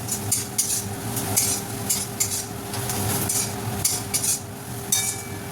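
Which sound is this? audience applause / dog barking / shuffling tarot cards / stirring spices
stirring spices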